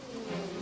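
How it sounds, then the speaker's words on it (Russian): A swarm of flies buzzes in a dense, continuous droning hum, loud and close throughout a brief moment with no voices. "Мухи, целый рой."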